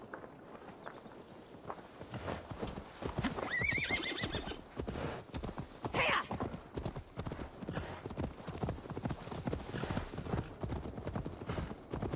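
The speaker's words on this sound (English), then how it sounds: "Now to deliver Magni his horse." Steady clip-clop of horse hooves trotting close by in the video game Assassin's Creed Valhalla, with a horse whinnying partway through.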